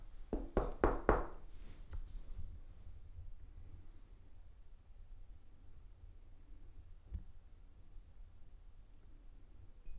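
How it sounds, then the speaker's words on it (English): A rapid cluster of four or five loud knocks inside an old house, followed by a single fainter knock several seconds later, then quiet room noise with no talking. "Can you knock?"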